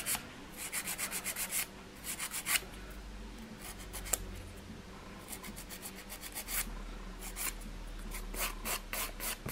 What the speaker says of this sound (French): Pour dire de limer.